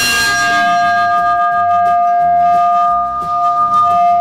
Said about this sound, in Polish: U nas jeszcze jest znowu dzwon.